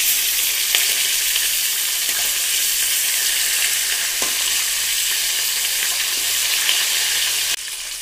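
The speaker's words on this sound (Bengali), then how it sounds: "মাছটা একটু ভাজা হোক" Fish fries in a hot pan of oil in a home kitchen, giving a loud, continuous sizzle with scattered crackles and pops that drops slightly in level just before the end.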